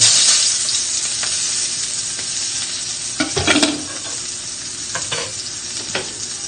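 Onions are stir-fried in a pan while cooking a lunch of ampalaya con carne, giving a steady close sizzle with a few louder stirring scrapes and clatters near the middle and toward the end, and no talk.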